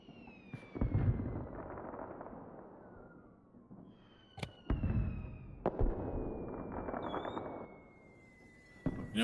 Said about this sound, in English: At least I can hear the fireworks.